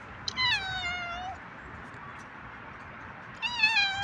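Cat meowing outdoors in Al Qassim Park in Riyadh, two clear drawn-out meows separated by a quiet pause, fairly close over faint background noise.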